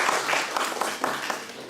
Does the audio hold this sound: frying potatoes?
no